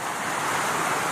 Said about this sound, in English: this is a pretty decent little creek